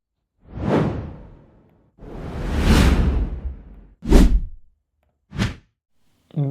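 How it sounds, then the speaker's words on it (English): Whoosh sound effects from a video editor's audio library: four separate swishes, the first two long and airy, the last two short and punchy, loud and clean against silence. "So there's like a whoosh or something like that, that can look nice."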